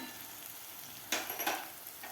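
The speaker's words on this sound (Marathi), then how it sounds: "ते मसालेसुद्धा आपल्याला व्यवस्थित परतून घ्यायचे आहेत" Dry spices (turmeric, cumin, coriander powder, garam masala) sauté in a pan with softened tomato for Maharashtrian tur dana amti, giving a steady soft sizzle with a brief louder crackle of stirring midway.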